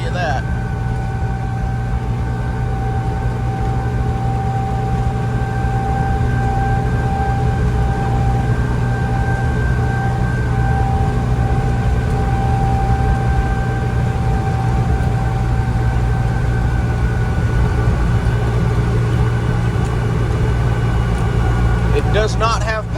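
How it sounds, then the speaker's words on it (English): A Pinzgauer 712M's air-cooled engine of about 80 horsepower runs while off-roading in Apalachicola National Forest. It gives a constant loud drone with a steady whine, and someone talks over it throughout. "This happens to be an air-cooled engine. I think it only puts out like 80 horsepower."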